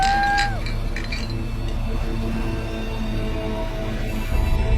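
Glasses clink together in a toast at the start, a couple of bright ringing chimes that fade quickly, followed by quiet room ambience.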